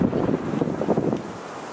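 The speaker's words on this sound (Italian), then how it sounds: "oggi c'è veramente un sacco di vento, quindi perdonatemi" Strong city wind gusting around the Umeda Sky Building in Osaka, buffeting the microphone with a steady low roar and irregular rumbling surges, with no voices.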